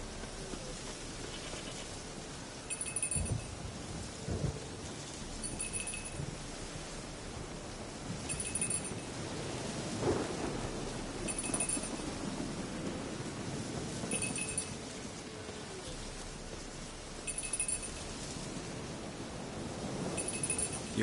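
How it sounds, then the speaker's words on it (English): A thunderstorm in the Wild Hunt video game: a steady hiss of rain with low rumbles of thunder and a faint chime that repeats every few seconds. No voices. "A storm, damn it."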